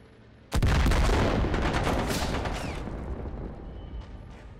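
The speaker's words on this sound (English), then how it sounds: "Grenades are being thrown to clear out the street." Gunfire and grenade blasts ring out in a video game battle as Iranian marines raid a separatist compound. One loud, sudden boom is followed by a dense roar of shots and rumble that fades slowly.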